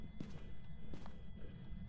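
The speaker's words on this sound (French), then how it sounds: "Écoutons les bruits de pas." In the video game Phasmophobia, a ghost's footsteps land as three soft, muffled thuds at an even pace over a low, steady background hum.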